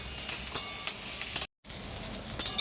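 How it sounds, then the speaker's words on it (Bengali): Vegetables fried for mixed fried rice sizzle in a pan with stirring scrapes, broken briefly by a moment of silence before the sizzle resumes. "আর 2 মিনিট মতো সামান্য একটু ভেজে নেব"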